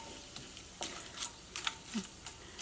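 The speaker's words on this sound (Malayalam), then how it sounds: "ഞാനവിടെ ലോ ഫ്ലെയിമിലിട്ടിട്ട് ഇങ്ങനെ ഇളക്കി കൊടുക്കാണ്" Spices and cashews stirred in hot oil over a low flame, a soft steady sizzle with scattered scraping taps of the spoon against the pan, close and quiet, no voices.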